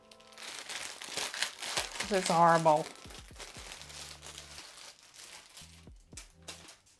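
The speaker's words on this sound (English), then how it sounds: "Sorry for the plastic noise." Plastic wrapping crinkles and crunches in short bursts while lucky stars are folded from paper, with someone talking quietly over the handling noise.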